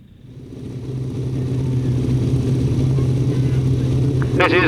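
Engines of 500cc racing sidecars on the start line build into a loud, steady rumbling drone that swells from quiet to full volume, with a sharper rising rev bursting in right at the end.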